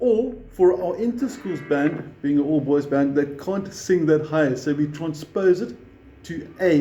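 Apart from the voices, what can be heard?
None of the usual background noises is heard.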